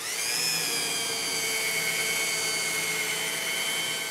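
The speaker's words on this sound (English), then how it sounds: "keep the metal platen flat to the wood as you sand" A power sander runs on wood, its metal platen held flat, giving a loud, steady, high-pitched whine with a constant motor drone and no pauses.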